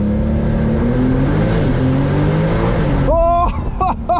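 A Brabus-tuned Porsche 911 Turbo S, rated at 820 hp, accelerates hard with a loud, rising engine roar. After about three seconds it abruptly cuts to short upshift blips and quieter engine and cabin sounds.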